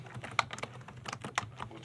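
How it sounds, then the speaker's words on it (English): Keystrokes on a computer keyboard tapping in an irregular run of clicks, with a couple of sharper, louder strikes, close by in a quiet room. "I'm just typing."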